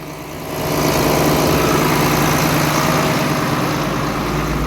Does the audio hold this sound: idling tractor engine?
yes